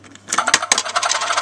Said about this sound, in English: insert some coins